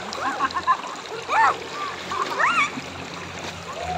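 Clothes being washed by hand in a river, with scattered splashes and water sloshing in short bursts while people chatter and call out nearby.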